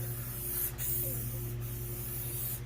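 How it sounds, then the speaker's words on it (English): A can of ceramic Teflon gel coat sprays onto a jetski, a steady close hiss running throughout with two brief pauses in the spray, over a low constant hum. "This is the high-tech Teflon ceramic super spray."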